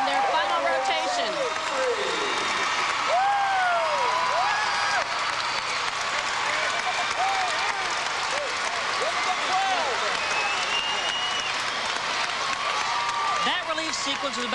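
A gymnastics arena crowd at the 1997 World Professional Gymnastics Championships applauds and cheers throughout, a dense steady roar of clapping with a commentator talking over it.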